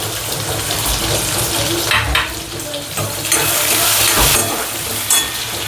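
Curry leaves and chopped onion hit hot oil seasoned with cumin for ragda patties, a loud, close, continuous crackling sizzle with bursts of spitting and occasional stirring.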